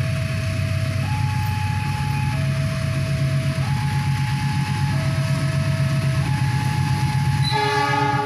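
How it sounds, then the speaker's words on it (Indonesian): Indonesian train with two economy coaches and cement wagons passing, its horn blaring in a long stepped two-tone call over a steady rumble of wheels, loud and close, with no voices. "membawa luar dinas dua gerbong ekonomi dan kereta api gerbong semen"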